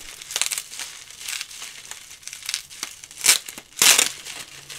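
Crinkling and tearing of bubble wrap and tape being pulled off a small Park Industries Dean Saf-T-Bilt advertiser lighter, in a series of close, scratchy rustles with two louder crackling bursts near the end.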